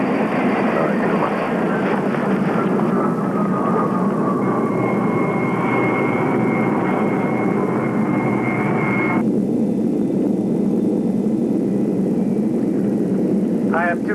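A fixed-wing airplane's engine drones continuously in flight, a steady loud hum with a whining tone that shifts partway through, filling the whole stretch.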